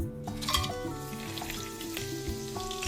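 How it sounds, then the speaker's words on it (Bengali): Whole spices fry over a low flame in hot refined oil: cloves, small cardamoms, cinnamon pieces, a star anise and bay leaves. Close, steady sizzling with soft crackles and light pan scraping, no speech. "ফোড়নগুলোকে লো ফ্লেমে একটু ভেজে নেব।"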